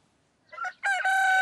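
A Meusienne breed rooster crows at close range, a short rising note followed by a long sustained harmonic call, clear and alone.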